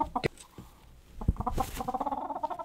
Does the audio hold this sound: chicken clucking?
yes